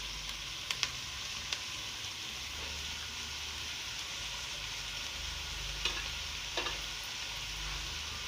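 Shredded cabbage and mixed vegetables, including capsicum, being stir-fried in a pan for Chinese rice, a soft continuous sizzle with a few spatula scrapes and taps near the start and end, quiet and close with no voices.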